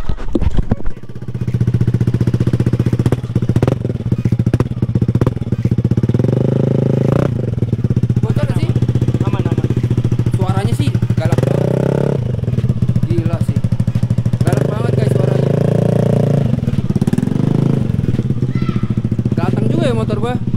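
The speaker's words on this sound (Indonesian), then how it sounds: "lu tes Vin ini knalpot gue pasang sendiri nih" Motorcycle fitted with a self-installed aftermarket exhaust, revving repeatedly in loud, close bursts with a steady idle rumble between, while a person talks over it.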